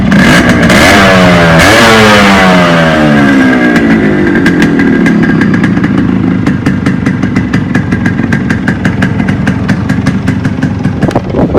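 Yamaha RX 100 two-stroke motorcycle from 1999 starts and runs close by, loud and steady with revving sweeps early on, then settling into a crackly, rapid idle with sharp repeated pops and clatter.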